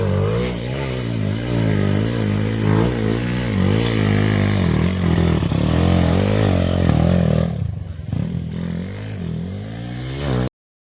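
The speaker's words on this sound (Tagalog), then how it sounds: "Underbone, lakas ang underbone" Underbone motorcycle engine revving hard and close, its pitch repeatedly climbing and falling in continuous loud sweeps, easing briefly near the end before cutting out.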